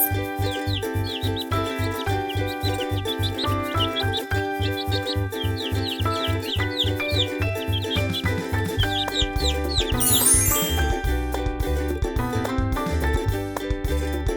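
Repeated high chick-like cheeps chirp over a bouncy, steady-beat music track, with a busier, brighter burst midway.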